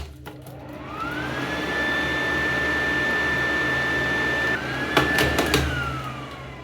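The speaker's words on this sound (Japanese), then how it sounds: "こういう形のドライヤー初めて見た" A telephone-shaped hair dryer spins up and blows steadily, a loud close whirring drone with a rising whine at start-up, a brief pitch dip near the end and a few clicks as it winds down.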